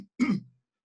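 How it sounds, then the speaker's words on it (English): A single short, throaty cough, close and fairly loud, with a rough, phlegmy quality and silence around it. "that was a wet cough"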